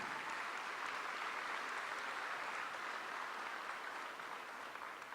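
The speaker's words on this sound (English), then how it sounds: "give them a big round of applause" Applause from the audience at a middle school graduation for the eighth graders, a distant, even wash of many people clapping that holds steady throughout without pause.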